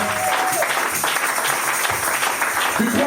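A church congregation applauds steadily and loudly throughout, a dense continuous wash of clapping with faint voices mixed in.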